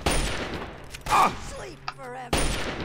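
Gunfire from the video game Fallout 3: a few loud, sharp broadband shot bursts in a short sequence, the last one hard-edged, with some game sound effects between them and no talk.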